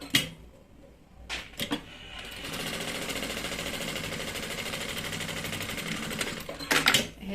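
A sewing machine stitches a straight seam along a handbag strap, running in a steady continuous whir for several seconds, with brief starts and stops at the beginning and end.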